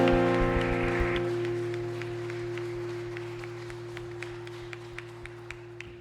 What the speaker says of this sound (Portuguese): Dê a salva de palmas e adoração a Jesus.